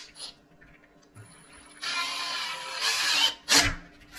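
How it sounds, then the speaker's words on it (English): A power drill whirs in a couple of short high-pitched bursts, separated by brief pauses, close up with a clunk at the end. "I'm just going to go ahead here and drill my holes."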